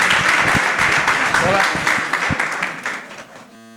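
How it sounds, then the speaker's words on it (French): Applause from an audience at a national science week competition and award ceremony in France, dense clapping that fades toward the end while a voice speaks briefly over it. "je vous demande de l'applaudir."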